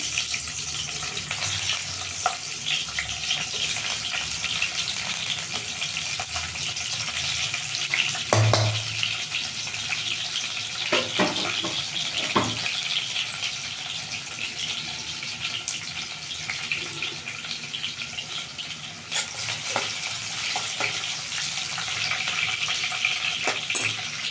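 Onions fry in oil in a pan with a broad, steady hiss and sizzle that runs the whole time, broken now and then by light clinks of a utensil against the pan.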